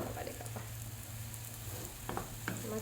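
Bhuna khichuri frying in a pot on a home stove, a steady close sizzle with occasional stirring scrapes and a low hum underneath.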